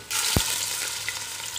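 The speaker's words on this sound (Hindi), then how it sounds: "अब हम इसमें चिकन डाल देंगे।" Chicken pieces dropped into a pan of lightly browned frying onions, a brief thud followed by a bright, continuous sizzle that stays close and loud with no talking.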